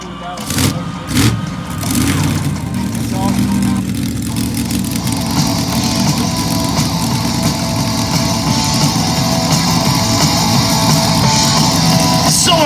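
Monster truck engines being bump-started and idling before elimination side-by-side racing at an outdoor event, a sustained loud rumbling drone after a few early knocks, with a voice talking over it.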